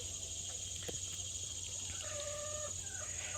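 Backyard chickens cluck in a short burst of throaty calls near the end, set against a steady outdoor hum with a few faint knocks earlier.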